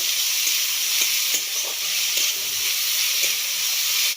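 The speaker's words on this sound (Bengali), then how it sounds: "পেঁয়াজটাকে একটু হালকা ব্রাউন হওয়া পর্যন্ত ভালো করে ভেজে নিতে হবে" Chopped onions frying in a pan for a Bengali fish curry, giving a steady, even sizzle throughout with faint stirring taps, close and alone.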